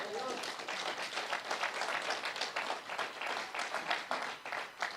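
A church congregation applauds, a continuous patter of many hands at moderate distance, fairly quiet and sustained throughout.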